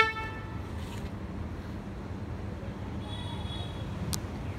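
A Hyundai i20 horn gives brief, faint chirps over a quiet outdoor background: one short tone near the start, then another toot and a sharp blip toward the end.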